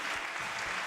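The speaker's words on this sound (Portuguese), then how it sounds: "Vamos dar um aplauso ao nosso Deus." Congregation applause in a church service, a dense continuous wash of many hands clapping, steady and fairly distant, heard alone without talk.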